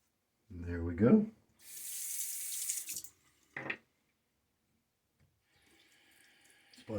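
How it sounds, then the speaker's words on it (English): Running tap water splashes at a bathroom sink during a wet shave, a few short gushing bursts separated by quiet, with a brief voice at the start. "Splash of water."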